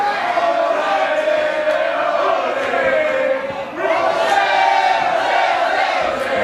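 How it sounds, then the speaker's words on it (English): A wrestling crowd at a 2010 PWG independent show chants in rhythmic unison for Ricochet and El Generico, a loud sustained roar of voices that dips briefly and swells again. "The fans not chanting Olay, they're chanting O'Shea for Ricochet."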